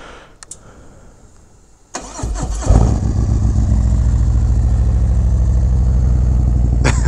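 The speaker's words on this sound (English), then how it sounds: "I'll give you guys a nice little cold start first." A Harley-Davidson Road Glide fitted with a Feuling 465 cam cold-starts after some light handling noise, cranking briefly, then catching and settling into a loud, steady, deep lumpy idle.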